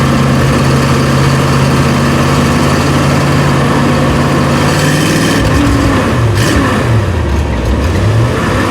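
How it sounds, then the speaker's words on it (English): A 1970 Ford Mustang Fastback is driven on its first drive, its engine droning loud and close and then revving up and down through shifts in the later seconds. "we're driving this car"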